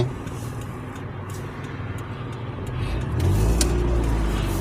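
A car drives along a road in Oświęcim and turns left, its steady engine and road noise rising toward the end as it pulls away and accelerates, with no talk.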